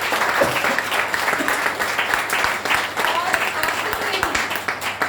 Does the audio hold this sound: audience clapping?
yes